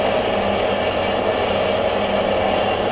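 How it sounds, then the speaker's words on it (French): Band saw cutting steel bars and angle stock in a workshop, a steady, grinding, rasping drone that runs continuously and close without voices. "Nous voilà donc en pleine coupe avec la scie à ruban pour couper nos brutes."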